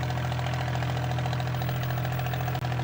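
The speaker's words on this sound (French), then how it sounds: "oh surprise, le loco finit par démarrer." Small peat railway locomotive engine running steadily after starting, a loud continuous mid-pitched idle with a dense knocking throb and no pause, heard up close.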